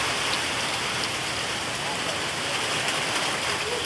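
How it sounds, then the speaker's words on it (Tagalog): Steady, heavy typhoon rain in the Philippines pouring down in a constant broadband hiss, loud and unbroken throughout. "Umuulan na naman."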